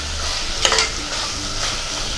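Tomatoes fry in a pan for mutton masala curry, a steady close sizzle broken by a few scraping stirs of a spoon.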